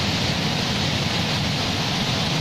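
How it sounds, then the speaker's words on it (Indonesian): Roar of the Temurun waterfall in the Anambas Islands, a dense, steady rush of heavy falling water that fills the whole clip at a constant, loud level with no break. "deru air terjun."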